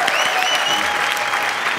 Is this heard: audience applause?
yes